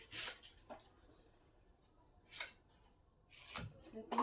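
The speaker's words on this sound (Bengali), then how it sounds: "ছোট্ট ছোট্ট করে কাটছি দেখুন বেগুন" Knife chopping small brinjals into pieces, a few crisp, quiet cuts against a board in separate bursts with pauses between, close by and faint.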